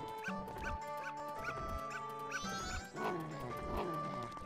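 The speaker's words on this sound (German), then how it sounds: "Ah, hau ab, scheiß Hund." A dog in the video game Zelda: Majora's Mask yips and barks in short repeated bursts over looping game music, the barks fairly faint and rhythmic before a brief change in the score.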